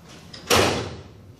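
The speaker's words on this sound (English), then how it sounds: "First thing you want to do is lock the door" Locking a torsion-spring overhead garage door gives a single sharp metallic clack, followed by a brief fading rattle.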